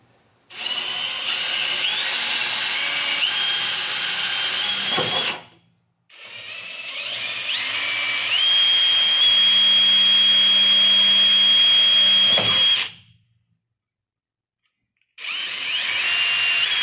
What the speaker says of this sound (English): I'll typically start with a smaller bit to drill a pilot hole